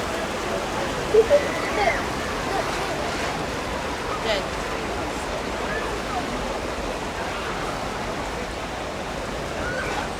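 Rushing water from the Congo River Rapids raft ride at Alton Towers, a steady broadband wash with a few brief splashy bumps near the start, heard from close by throughout.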